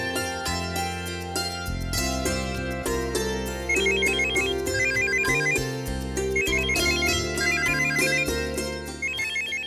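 A phone ringtone plays as a repeating electronic melody, loud and steady throughout, with no talking over it, in a home setting.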